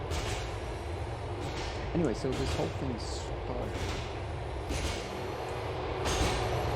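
A subway train in GTA IV's Liberty City rumbles toward Frankfurt Avenue Station, a continuous rolling clatter with a few brake-like squeals, heard beneath someone talking.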